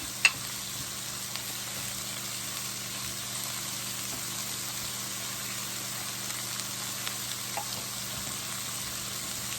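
Jerk seasoning goes into a sizzling pan for steak and shrimp rasta pasta, a steady, soft frying hiss with faint stirring clicks, constant and fairly quiet with no talking.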